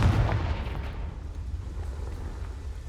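Explosion from the Confringo spell in the Hogwarts Legacy video game, a deep rumbling boom at the start that fades into a long low roar, with no speech over it.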